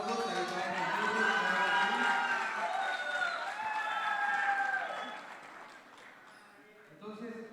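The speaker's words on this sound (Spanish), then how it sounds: "les pido fuertes aplausos a Ismael Martínez" An audience at a literary talk in Mérida breaks into loud, steady applause that holds for several seconds, then thins out and trails off, with a short flare of clapping near the end.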